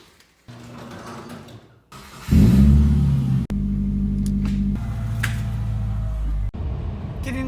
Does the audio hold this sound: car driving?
yes